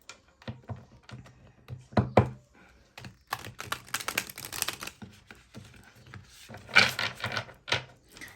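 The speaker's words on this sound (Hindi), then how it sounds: "आप तीसरे डेक से भी मैं कार्ड्स निकाल रही हूँ 4 कार्ड्स।" Tarot cards drawn one by one from a third deck, giving soft irregular taps, shuffles and card slaps, close and fairly quiet, with brief rustling bursts spread through the stretch.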